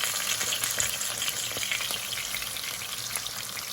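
Pike pieces frying in a pan give a close, crackling sizzle with scattered pops and spits of oil, steady and unbroken throughout with no talking.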